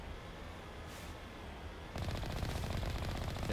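Enemy gunfire in the video game Mass Effect, a low hum that switches to a fast, continuous machine-gun rattle about halfway through, steady and fairly loud.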